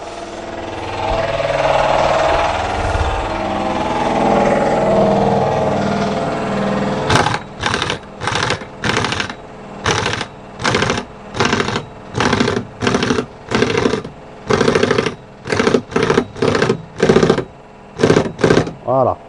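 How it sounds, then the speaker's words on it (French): An air compressor hums on its own at first, then an impact tool fires in rapid, regular bursts with short pauses while a Citroën C3 front strut is tightened, all loud and close. "Le compresseur vient de se mettre en branle"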